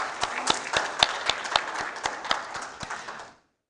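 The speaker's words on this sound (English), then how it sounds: "So big round of applause for these 2 people." A conference audience gives a brief round of applause. The claps come sparse and distinct, close and moderately loud, then fade out quickly into silence.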